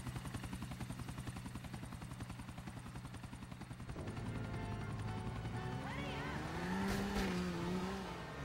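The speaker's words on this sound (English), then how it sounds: "there the chopper goes" Helicopter in Grand Theft Auto IV with a steady, close rotor chop that gives way to a fuller engine whine rising in pitch, continuous throughout.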